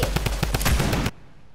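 Rapid automatic gunfire in the video game Fortnite, a loud, close burst of about ten quick evenly spaced shots that cuts off sharply, then near silence.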